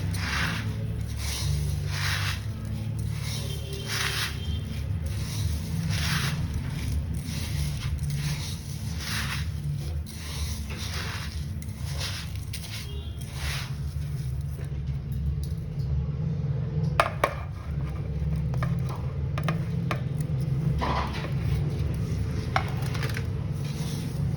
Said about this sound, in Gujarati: હવે આમળાનું જે આપણે એને આદુનું ખમણ કરેલું છે ને એ આપણે એડ કરી દઈશું. થોડું થોડું લઈને આપણે મિક્સ કરી દઈશું.